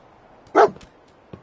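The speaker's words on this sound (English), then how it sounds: "Dog meat can track this." Dogmeat, a dog in a video game, gives a single sharp bark close up, followed by a fainter short yelp, over a quiet background.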